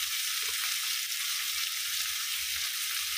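Peas and bell pepper frying in a pan with salt, a steady loud hiss of sizzling oil holding evenly from start to finish with no talk.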